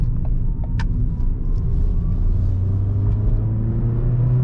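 A Ford Fiesta engine pulls steadily while driving, giving a loud, continuous low rumble with rising engine drone and a faint rev climbing through the gear, heard from inside the car.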